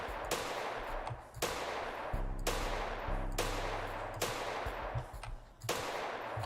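Gunfire in a top-down zombie shooter video game: five or six sharp, loud synthetic shots spaced about a second apart, each with a short decaying tail over a low droning game soundtrack.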